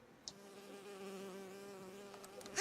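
A Fuse bee in Bioshock Infinite buzzes steadily and close for a few seconds, a sustained insect drone that holds an even pitch before a sharp burst at the end.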